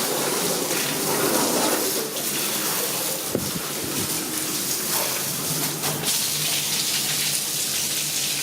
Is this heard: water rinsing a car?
yes